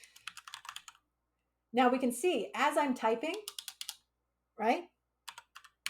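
Rapid clicking keystrokes on a computer keyboard come in bursts at the start and end, with a person talking in between over the typing.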